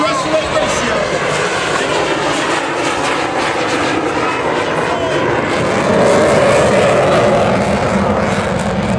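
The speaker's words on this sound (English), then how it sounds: "apply full afterburner and accelerate his aircraft into a nearly vertical climb" An F-16 fighter jet on full afterburner in a near-vertical climb at a military airshow roars loudly and steadily throughout, with an announcer talking over the engine noise.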